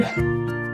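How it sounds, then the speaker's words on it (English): A short, drawn-out cat meow, fairly quiet and a little distant, heard alone. "You might hear my cat talking in the background."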